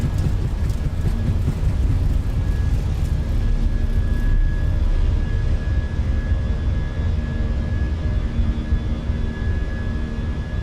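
An Airbus A319 airliner climbs away after a long takeoff roll in Microsoft Flight Simulator 2024. A steady, loud engine roar fills the cockpit with a sustained whine and rumble that holds even throughout.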